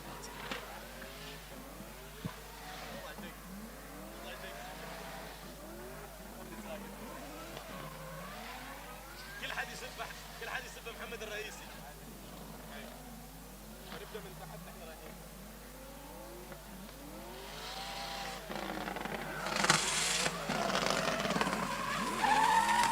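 A drift car opens its qualification run at Muscat Arena in the Oman International Drift Championship, revving hard with screeching tires, the engine rising and falling under a commentator's voice before swelling louder toward the end.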